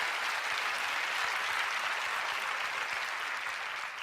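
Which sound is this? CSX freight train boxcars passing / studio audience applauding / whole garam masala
studio audience applauding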